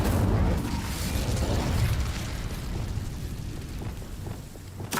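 The Incendio fire spell bursts in the game Hogwarts Legacy, a loud roaring whoosh with rumbling low crackle that sustains and slowly fades, then a fresh sharp burst at the end.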